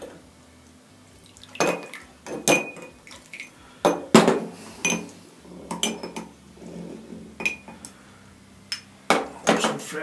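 Metal key-casting equipment clinks and clatters in boiling water in irregular bursts, sharp knocks of cookware against each other with a faint wet swishing between them.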